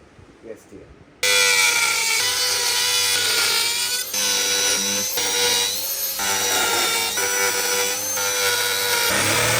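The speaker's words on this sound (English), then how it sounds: "I like to start my cuts with the cutting wheel on the Dremel, and then I finish off with the jigsaw because it makes a much cleaner cut." A jigsaw cuts through a sheet for a garage NFT hydroponic system, a loud, close, continuous buzzing rasp that starts abruptly after a quiet moment and runs steadily with slight dips, after faint talk at the start.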